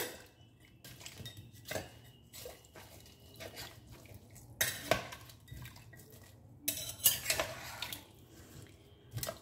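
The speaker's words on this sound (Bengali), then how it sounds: "এটাকে এবার আমি মিশিয়ে নেবো ভালো করে।" A spoon scrapes and clanks against a pot while chicken stew is mixed with turmeric and basic spices, no oil used, giving irregular metallic knocks and soft wet stirring, fairly quiet with louder clatters.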